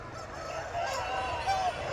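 Chickens and roosters at a busy early-morning poultry market in Kundarapalli call out with loud honking, crowing squawks over a dense crowd murmur, several birds at once nearby.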